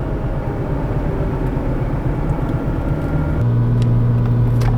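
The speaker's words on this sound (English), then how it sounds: "Giving it a little bit of throttle on this hill." A car engine pulls under throttle up a steep hill at 50-55 mph during a misfire test on the primary ignition. A steady low rumble of engine and road noise grows a little deeper and stronger partway through as more throttle is given.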